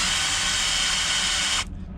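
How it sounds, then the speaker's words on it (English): An electric drill spins a pad of wet and dry sandpaper pressed against a stainless steel boat fitting, giving a steady, loud, even whir that cuts off abruptly near the end. "I'm going to stick this in the drill like that, and I'm just going to hold it into the wet and dry"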